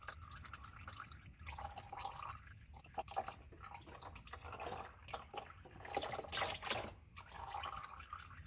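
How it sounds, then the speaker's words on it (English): Engine oil draining from a third-generation Toyota Prius during an oil change, a quiet continuous trickle of liquid running into a pan with faint dripping, heard alone at low level. "now while our oil is draining"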